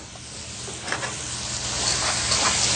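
About a pound of fresh peas sizzling and frying in a pan: a steady, close hiss and crackle that grows slightly louder as it goes on, with no voices.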